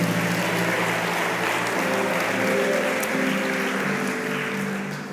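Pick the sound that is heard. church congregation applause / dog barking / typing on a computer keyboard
church congregation applause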